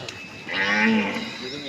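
A Kangeyam cow at a cattle market gives one loud, close moo that swells up midway and trails off, with faint market background around it.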